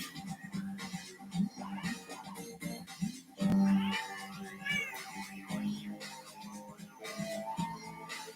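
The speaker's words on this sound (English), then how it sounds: "My baby kitty cat is so cute." A kitty cat meows in short, repeated vocal calls with rising and falling pitch, one louder and sustained near the middle, close by and set against a busy background of other sound.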